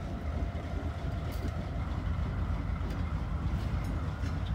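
A railroad locomotive creeps in on the house track during switching in a rail yard, a loud continuous low engine rumble with steady mechanical noise and faint metallic clicks, near and without talk.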